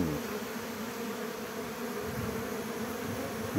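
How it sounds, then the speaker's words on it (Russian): Young honeybees on their orientation flight swarm around the hive, producing a dense, steady, moderately loud buzzing drone with no voices over it. "Это новые молоденькие пчелки начали облет делать."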